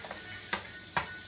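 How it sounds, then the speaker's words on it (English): Spiced candied yams with ginger stirred in a pan, two or three soft scrapes of a spoon over a low steady sizzle, brief and close. "Let's give this a stir."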